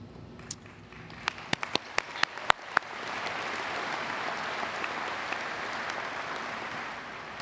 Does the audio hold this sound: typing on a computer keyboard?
no